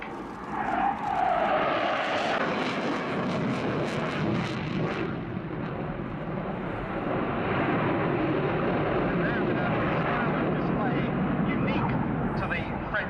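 A delta-canard fly-by-wire fighter jet sweeps in for an opposition brake at an air show, a loud rising roar that swells early and then settles into a sustained broad rumble.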